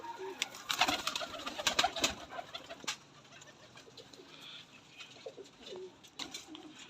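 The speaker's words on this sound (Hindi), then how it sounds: "डब वाला कबूतर है ये" A pigeon coos softly and repeatedly close by, after a burst of rustling and flapping at the start.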